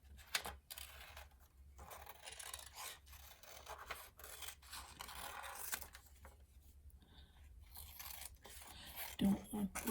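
Paper for an art journal is cut with scissors in soft, irregular snips and rustles, close and quiet, with a person speaking in between.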